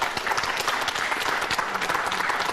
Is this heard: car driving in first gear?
no